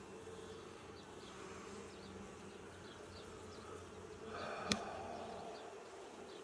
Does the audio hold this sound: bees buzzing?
yes